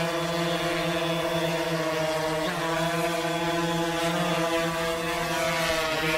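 A SPLASHdrone lifts off and hovers during ground testing, its rotors giving a steady, loud buzzing whine with harmonic tones that shift slightly in pitch as it climbs and holds, continuous for the whole stretch with no talk.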